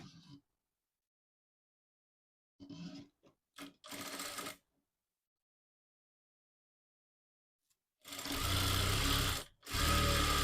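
A sewing machine stitching layers of can-can frill for a long frock, heard in short runs of steady mechanical whirring, with a few brief starts early on and two longer, louder bursts near the end.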